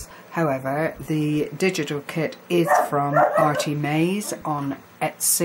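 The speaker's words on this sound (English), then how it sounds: "Excuse my dog." A pet dog barks and yips indoors in short, repeated bursts, mixed in with someone talking steadily over it.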